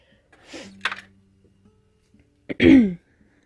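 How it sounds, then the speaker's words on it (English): A person coughs and clears their throat: a short rough throat clearing, a brief sharp cough, then a louder, harsher cough after a quiet gap, close to the microphone. "I don't mean to cough and snuffle in your ear"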